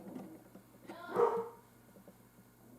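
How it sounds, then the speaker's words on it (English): A dog gives a single sharp bark up close, briefly rising out of a quiet indoor room, with faint background noise before and after. "Sorry about the dogs"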